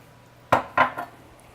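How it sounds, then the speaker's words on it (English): A metal fork clinks three times against a bowl while wet ingredients are mixed for a quick bread batter. The taps are quick, close and fairly quiet, with each one a little softer than the last. "I'm going to mix that with my fork."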